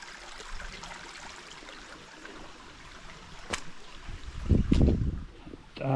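Water from upstream pools flows into Dingo Creek as a soft, steady outdoor wash, with a brief louder, low rumbling disturbance toward the end.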